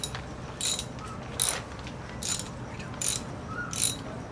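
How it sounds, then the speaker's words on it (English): A hand ratchet working a bolt while long tube headers are fitted to a Mazda Miata, giving short clicking bursts at a fairly regular pace, close and clear against a quiet background. "I need you to ratchet it"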